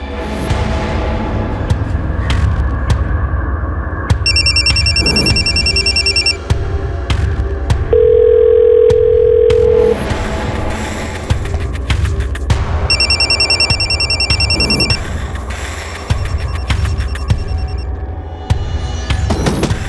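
Two bursts of electronic phone ringing, spaced well apart, over a heavy throbbing drone and a brief steady tone; no voices, and the ringing goes unanswered.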